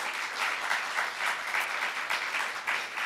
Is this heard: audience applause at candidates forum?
yes